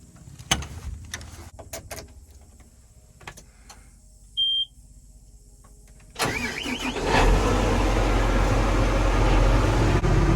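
A John Deere tractor's engine cranks and catches after a stretch of quiet clicks, a short beep sounding just before the start, then settles into a loud, steady running rumble close by.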